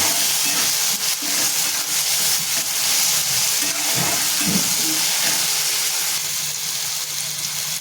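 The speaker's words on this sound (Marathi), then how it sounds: "ह्याच्यामध्ये मी अद्रक लसूण मिरची आणि कोथिंबीर याची पेस्ट केलेली आहे ती पेस्ट परतून घ्यायची आहे" Ginger, garlic, green chili and coriander paste sautés in a pan for prawn masala, giving a steady, loud hissing sizzle throughout with faint clinks of stirring.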